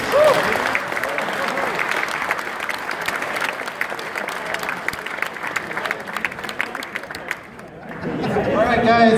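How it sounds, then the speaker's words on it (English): A crowd at a competitive gaming event claps for the winning teams, sustained dense applause with some chatter mixed in, tapering briefly near the end before the room noise swells again with voices. "give them an applause."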